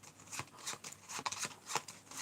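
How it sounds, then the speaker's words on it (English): A small deck of five playing cards is shuffled by hand, a quiet run of quick riffling flicks and soft snaps close up, with no voices. "I'm going to give mine a shuffle."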